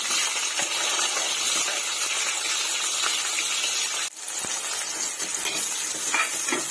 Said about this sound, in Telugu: ఈ ఆనియన్స్ ఆయిల్లో కొంచెం ఫ్రై చేసుకుందామండి